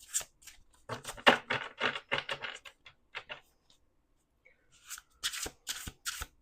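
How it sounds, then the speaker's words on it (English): A large deck of illustrated cards is shuffled close up in two bursts of quick riffling clatter separated by a short quiet pause, with no talking. "We'll do one more shuffle"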